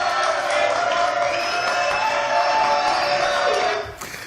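A studio audience on a French television talk show cheers and claps loudly for several seconds before the noise drops away abruptly at the end.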